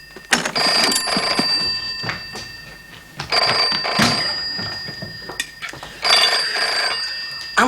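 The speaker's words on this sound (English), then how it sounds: "answer the phone" An old-fashioned telephone bell rings loudly and close in three long jangling bursts with short gaps between them.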